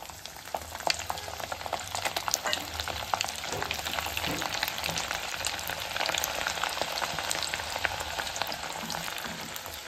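Mustard seeds, fenugreek and urad dal frying in hot oil for a bitter gourd pickle tempering, a steady dense crackle and sizzle with scattered popping seeds throughout, close and continuous with no voices.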